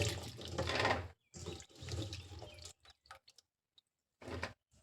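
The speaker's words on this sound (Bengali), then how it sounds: "সব আমগুলোকে ভালোভাবে কেটে নিয়েছি ছোট ছোট করে। এবার একটু জল দিয়ে ধুয়ে নেব।" Small chopped pieces of raw green mango are rinsed in water in a kitchen, giving a few close bursts of splashing and sloshing with brief quiet gaps and faint trailing drips.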